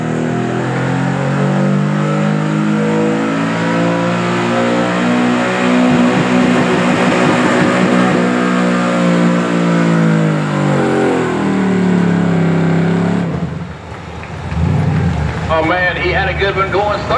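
A Chevrolet pulling truck roars down the track at a Southeastern Ohio Pulling Series truck and tractor pull in Caldwell, Ohio, a loud sustained engine howl climbing in pitch, then dropping off and surging again, with an announcer talking over it.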